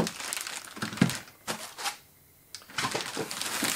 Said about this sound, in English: just grab the closed cell foam